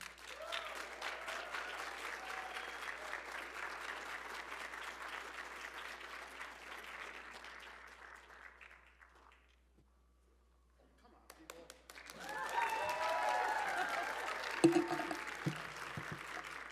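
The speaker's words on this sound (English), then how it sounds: "Please have a round of applause for Secretary Haaland." An audience applauds Secretary Haaland at a forum on environmental impact in Latino communities: steady clapping that fades to near silence, then a louder second burst of applause with some cheering.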